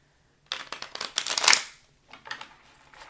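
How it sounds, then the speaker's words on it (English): Tarot cards being shuffled by hand in a quick riffling burst that swells and then stops, followed after a brief pause by a second, softer round of shuffling, close by and with no talk. "let's get a good shuffle for this clarification."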